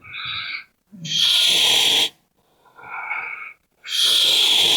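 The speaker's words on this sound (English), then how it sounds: "Inhale and exhale." Ujjayi breathing during yoga: two rounds of audible, throaty inhales and exhales alternate, each a breathy, rushing hiss lasting about a second, close and fairly loud, with short silent pauses between breaths.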